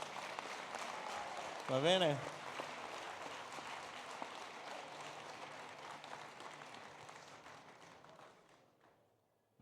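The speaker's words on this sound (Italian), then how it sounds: "Ci alziamo le mani e noi vi applaudiamo perché veramente ve lo meritate." Audience applause for award recipients at a vocational education ceremony, a dense sustained clatter of many hands that runs under a brief spoken phrase and gradually fades out toward the end.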